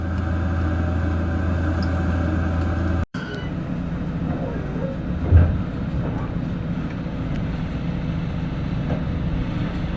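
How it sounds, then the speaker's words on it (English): A Japanese train runs steadily along the coast toward Aomori at a leisurely pace, a continuous rolling rumble with a brief dropout and a soft low thump midway. "The train travels at a leisurely 70 kilometers per hour"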